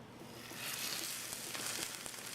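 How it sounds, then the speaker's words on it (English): Fat side of a leg-of-lamb steak searing in a medium-high heat pan, a soft steady sizzle that swells after a moment and holds, fairly quiet and close with no one speaking. "get this inside a nice medium-high heat pan"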